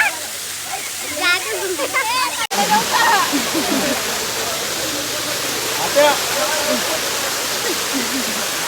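A waterfall at Matheran roars as a constant loud rush of falling water, close by, while people talk and shout over it in the first few seconds.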